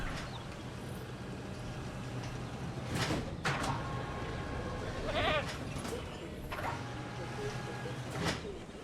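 A goat bleats in the dinosaur park-building game Jurassic World Evolution, giving a few short, wavering cries over a low, steady game ambience.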